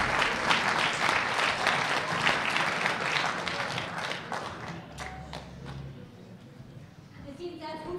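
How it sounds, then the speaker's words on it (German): An audience claps for the mayor at a music club's annual celebration, a dense, fairly close round of applause that gradually tapers off, leaving a few scattered claps and a faint voice at the end. "Einen großen Applaus für unseren Bürgermeister Björn Steinbach."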